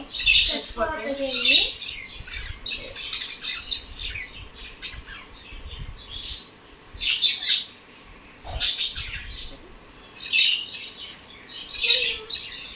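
Shrill lovebird squawks come in repeated short bursts every second or two, fairly close, over a low background rumble.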